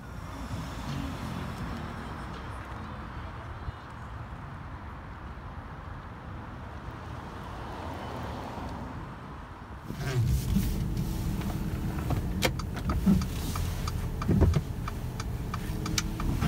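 Mercedes-Benz B 250e electric car on a test drive, a steady low road and cabin rumble with faint ticking, growing louder and busier partway through as the car moves on, with no engine roar.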